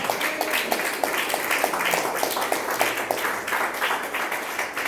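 A church congregation claps together during a Spanish-language Christian service, a loud dense wash of applause with a faint regular tapping pulse running through it.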